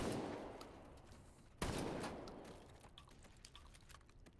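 Rapid automatic fire from a bullpup rifle in a competitive video game match, a dense stream of shots with a sharp loud burst partway through, then tapering into scattered cracks.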